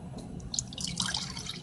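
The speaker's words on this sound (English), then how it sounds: "Pour the orange juice first." Orange juice pours from a carton into a glass, a faint, brief liquid trickle with soft splashing drips, heard alone.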